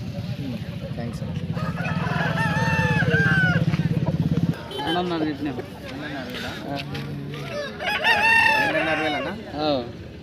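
A Punganur rooster crows loudly and close by in a long sustained call at a hen market, then other crows and bird calls follow amid background chatter.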